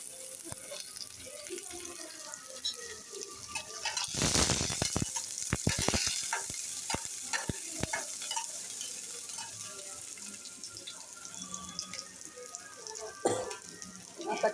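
Crushed garlic dropped into hot oil for tempering, a sudden burst of loud sizzling that settles into a steady, quieter crackle with occasional clinks of a spoon stirring the pan.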